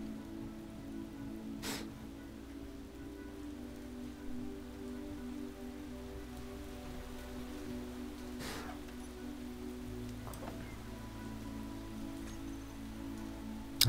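Steady rain falls across the landscape in Space Engineers, a continuous soft patter with a few brief sharper taps, constant and fairly quiet throughout.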